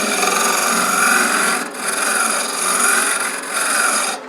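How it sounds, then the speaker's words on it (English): Spindle gouge, 3/8 inch, taking a steady pull cut on wood spinning on a lathe while a chess rook box is turned: continuous close rasping scrape with slight swells and dips, alone without talk. "I was going to do a pull cut with spindle gouge, 3/8 inch spindle gouge."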